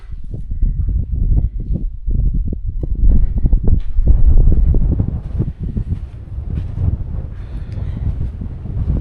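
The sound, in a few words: gusty wind in a canyon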